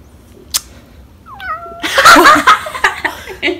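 A cat lets out a drawn-out, wavering meow, followed by sharp bursts of laughter and excited noise close by.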